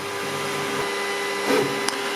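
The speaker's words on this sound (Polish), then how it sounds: "Drukarka teraz robi zdjęcia temu, co wydrukowała, za pomocą kamery, którą ma w swojej głowicy" A Creality K2 Plus 3D printer runs its calibration routine, giving a steady mechanical whir and hum that holds throughout, with a brief louder swell and a sharp click near the end.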